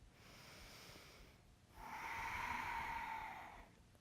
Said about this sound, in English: Couple more breaths here